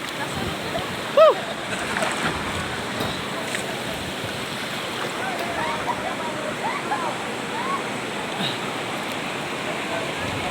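San Isidro Falls waterfall pours in a steady, broadband rush of falling water close by, continuous throughout, with a brief sharp sound and faint voices scattered over it.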